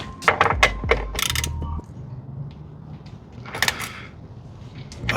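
Tightening the oil drain plug on a Kawasaki Ninja ZX6R motorcycle: a few close, sharp metallic clicks and ratcheting taps in bursts, separated by quiet gaps.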